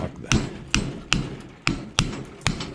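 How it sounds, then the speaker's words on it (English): A hammer drives a chisel against an upright vacuum cleaner being scrapped for copper, six sharp metallic strikes at uneven intervals, close and loud, each ringing briefly before the next blow. "When all else fails, get the hammer and chisel."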